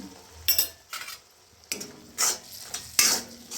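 A spatula stirs chili powder into bitter gourd frying in a pan, making several brisk scraping strokes in uneven bursts over a faint, steady sizzle. No one speaks.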